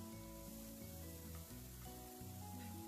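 Eggplant and onions frying in a pan with salt for brinjal thokku, giving a steady, close sizzle that runs unbroken under a low kitchen rumble.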